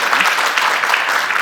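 Studio audience applause on a live morning talk show, a steady, dense wash of clapping filling the moment without voices.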